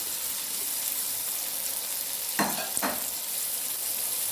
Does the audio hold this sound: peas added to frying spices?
yes